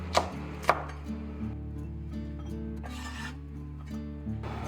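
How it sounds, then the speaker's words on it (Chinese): A knife chops celery and green and red chilies into rings on a board, two sharp close cuts early, then softer scraping and rubbing strokes over a steady low hum. "配菜我们就切点芹菜段。 然后青红线椒我们就切圈"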